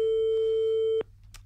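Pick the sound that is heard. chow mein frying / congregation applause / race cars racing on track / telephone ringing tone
telephone ringing tone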